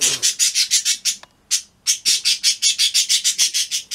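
Birds squawk in a fast, steady series of harsh, shrill calls, loud and close, with one brief gap before the rhythm resumes.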